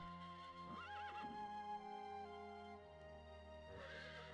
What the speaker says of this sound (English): And failed horse archer raid here.